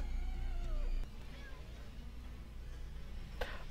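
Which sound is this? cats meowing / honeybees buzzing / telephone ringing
cats meowing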